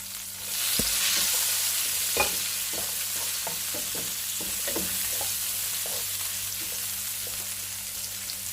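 Onions sizzling steadily in hot olive oil in a pan, with repeated scraping knocks of stirring throughout and no voices.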